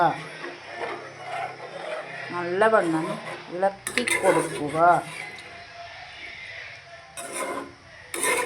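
A metal spoon clinks and scrapes inside a pot while sardine curry with tamarind water is stirred, producing close, uneven knocks and rubbing under a talking voice.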